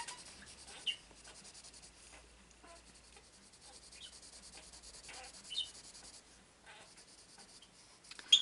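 A colored pencil shades lightly across paper with soft, faint scratchy strokes that continue through the whole stretch, punctuated by a few slightly louder rubs.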